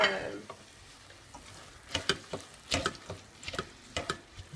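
A spoon scrapes and clacks against the pot while soaked lentils are stirred into a tomato and onion mixture for a Moroccan lentil dish, irregular close stirring knocks over a faint background sizzle.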